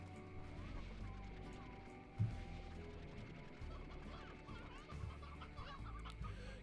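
Chickens cluck in the video game Slime Rancher, a steady chorus of hens and roosters near and fairly loud, with one sharper knock partway through.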